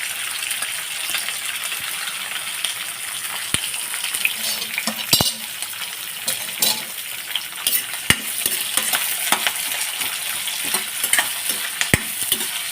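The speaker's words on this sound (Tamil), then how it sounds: "நம்ம கொஞ்சம் லேசாக வதங்கினா போதும்." Cinnamon, cloves, curry leaves and onions sauté in a pan for goat trotter paya, with a steady hissing sizzle close by and scattered sharp clinks and scrapes of a metal spoon stirring.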